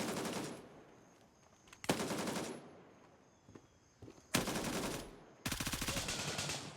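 Bursts of automatic gunfire from the video game Gray Zone Warfare, four rapid volleys separated by quieter pauses with faint footsteps and ambient noise between them.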